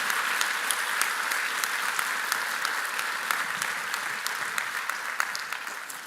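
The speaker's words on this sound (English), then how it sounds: "one of the great things about commencement is your clapping and your enthusiasm" An outdoor audience at the Bard College commencement in 2021 applauding, a dense, even wash of many hands clapping throughout with no pauses.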